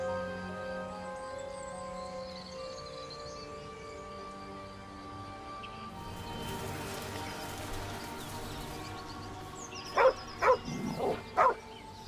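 A dog in the fantasy video game Baldur's Gate 3 lets out a short burst of four or five close barks near the end, following a stretch of quiet ambient music and soft environmental sounds.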